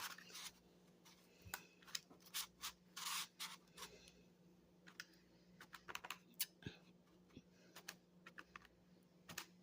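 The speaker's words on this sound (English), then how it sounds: "and I'm just typing everything in." Quick, irregular key taps on a small keypad, close and clear, come in short bursts with brief pauses between them.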